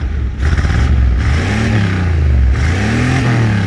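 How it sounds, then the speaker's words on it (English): A loud V8 engine of a 1972 Chevy van, unused for five years, revs up close with a faulty accelerator pump, the throttle blipped a couple of times so the rumbling pitch rises and falls over a rough, clattering idle. "I'll give it a couple of revs."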